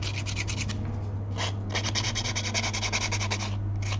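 Wood is trimmed and smoothed with a worn, damaged hand tool while building a Viking longship, producing continuous close rasping strokes in quick succession over a low steady hum.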